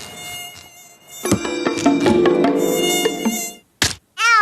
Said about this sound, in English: a mosquito came out of my Laffy meal and bit me